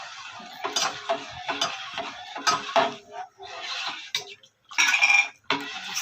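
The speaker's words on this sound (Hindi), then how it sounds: "इसे हिलाते रहना है इसको डालने के बाद, नहीं तो ये गांठें बांध देता है।" Tomato soup being stirred in a pot: a spoon scrapes and clinks against the pot in irregular, fairly loud bursts separated by short pauses.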